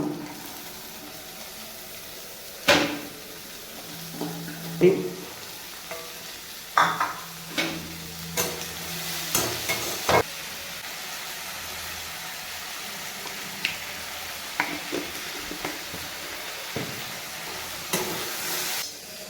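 Potatoes fry in a hot pan for shop-style Maggi, with continuous sizzling broken by sharp scraping and clanking stirs at irregular intervals, close and fairly loud.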